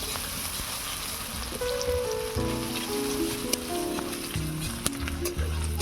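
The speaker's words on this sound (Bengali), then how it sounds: "পেঁয়াজ রসুনটাকে লাল লাল করে ভাজা হয়ে গিয়েছে।" Onion and garlic paste with chopped onion, cumin and green chilli frying in hot oil for a papaya and prawn curry, a steady close sizzle and crackle throughout, with a few sharp spits of the spoon and pan.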